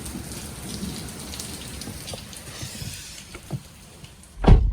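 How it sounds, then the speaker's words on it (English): Heavy Florida rain drums steadily on a Subaru BRZ while driving, a dense close hiss of drops with a few sharper taps and a louder thump at the end. "It is raining heavy"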